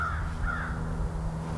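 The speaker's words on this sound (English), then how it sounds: "Crow." A crow caws twice, loud and fairly close, out in open country over a steady low engine rumble from a vehicle driving back roads.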